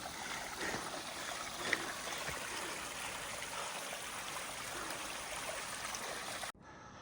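Steady rushing of a mountain stream on a forested trail, broadband water flow heard up close and continuous for several seconds before cutting off abruptly near the end.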